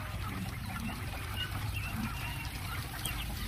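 Chickens cluck in a busy, noisy space on a quail-raising farm, their calls blending into a constant low rumble of background sound with no talking.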